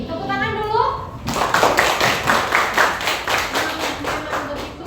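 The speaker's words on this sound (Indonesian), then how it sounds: "Tepuk tangan dulu." A classroom audience bursts into steady, dense applause after a brief spoken prompt, the clapping sustained and lively for several seconds.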